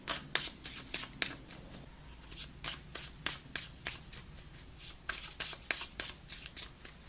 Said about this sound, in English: let's pull some outcome cards